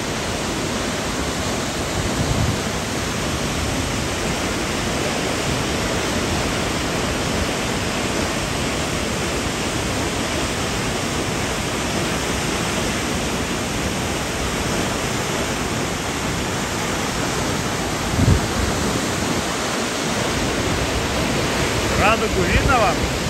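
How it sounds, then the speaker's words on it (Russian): A powerful waterfall in Switzerland roars with a dense, steady rush of water, loud and unbroken throughout, with no voices audible. "Посмотрите на эту мощь водяного потока."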